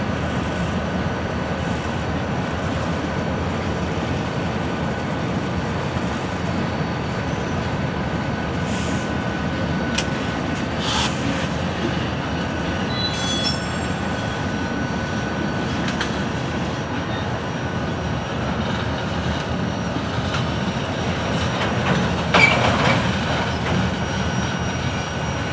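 A train of Herzog dump rail cars with solar panels on the top corners rolls steadily past, a continuous close rumble with clicking wheels and occasional metallic squeals.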